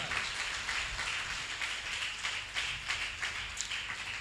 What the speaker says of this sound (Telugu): నిజమైన దైవ భయం కలిగిన వాళ్ళు గట్టిగా చప్పట్లు కొట్టి దేవుడికి మహిమ